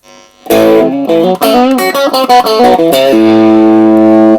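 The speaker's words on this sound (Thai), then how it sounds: "เกณฑ์มันคือเสียงเสียงแตกยิ่งเปิดมากยิ่งบี้อ่ะนะครับ" Distorted electric guitar through a Fender Japan amp with the gain raised: a loud, choppy run of picked and strummed chords, then one sustained chord that rings to the end. No voices.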